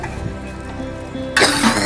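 An elderly woman in a dramatized domestic scene gives one sudden, harsh cough near the end, following a quiet stretch of soft background music.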